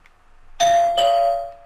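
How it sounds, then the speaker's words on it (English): Indoor doorbell rings a two-tone ding-dong, one bright chime right after another, loud and close with a ringing decay and no talking. "why is my doorbell all the way on the other side of the house?"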